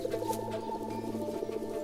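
Grass frogs in the Tatra Mountains keep up a dense, steady chorus of low croaks, many voices overlapping in a continuous throbbing trill, close and fairly loud with no talking.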